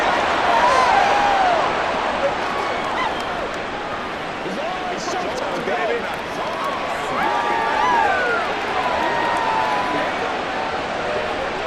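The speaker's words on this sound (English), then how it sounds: "the crowd here at MetLife Stadium in full roar" A stadium crowd at MetLife Stadium roars steadily in a Madden NFL 24 Jets versus Giants game simulation, a dense, sustained wash of cheering that stays loud throughout beneath play-by-play commentary.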